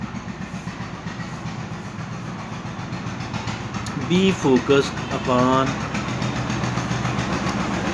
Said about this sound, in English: This is a tractor going on outside, so I beg apology.